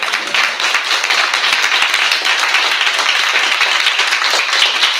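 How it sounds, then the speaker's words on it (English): Audience applause at the Health Techquity 2025 conference: a dense, steady wash of many hands clapping that holds evenly and loudly for the full five seconds, with no voices over it. "another round of applause"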